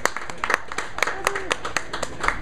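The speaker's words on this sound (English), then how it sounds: "A round of applause for Thom, world poet." Scattered, uneven hand claps from a small audience at an open mic night at Freddie's Place, a few sharp claps at a time, mixed with someone talking over them.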